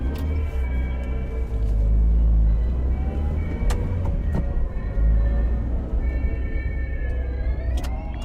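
A car driving in a Roblox game, a steady low engine rumble with a droning hum that holds throughout, loud and continuous, with faint higher tonal sounds drifting in toward the end.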